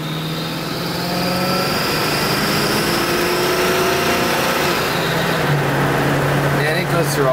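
A Mercury Colony Park station wagon with a 460 V8 accelerates through its gears, a steady moderate engine drone heard from inside the cabin with pitch steps as it shifts, under road noise.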